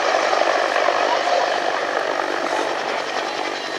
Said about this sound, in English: And another lovely engine note, Andy, that of the Bristol Sibley Dome turboshaft engine.